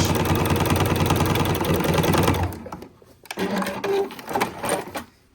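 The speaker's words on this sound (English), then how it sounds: "And then stitch around. This is a very gentle curve, so it's not that difficult to stitch around." A sewing machine stitches around a gentle curve on a fabric bowl cozy, running loud and continuous for over two seconds, then stopping and giving way to a few shorter, rougher mechanical bursts.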